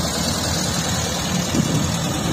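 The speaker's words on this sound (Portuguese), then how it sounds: "Olha o Fusquinha voltando aqui." Low, steady engine rumble of a classic Volkswagen Beetle idling close by at an outdoor car meet, continuous and unbroken with no speech.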